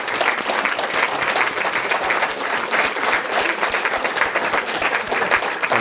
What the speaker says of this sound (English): If you can stand up and take a round of applause